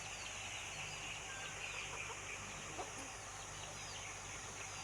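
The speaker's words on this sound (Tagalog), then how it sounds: "Ang daming manok oh." Chickens cluck softly across a Philippine farm yard at a steady, moderate distance, mixed into a continuous bed of outdoor ambience with occasional faint bird calls.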